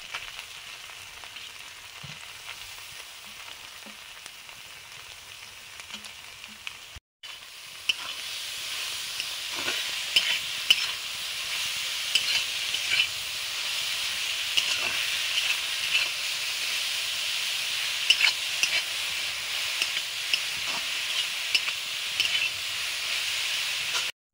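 Grated beetroot and carrot stir-fry in a hot pan for vegetable chops, giving a steady, close sizzle with hissing steam that grows louder and denser after the first few seconds and stays constant to the end.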